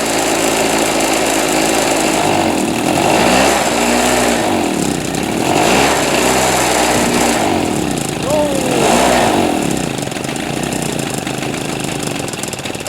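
A Harbor Freight Storm Cat 2-cycle generator runs on choke, its loud, buzzy engine surging and dipping unevenly in repeated waves, with a person speaking over it.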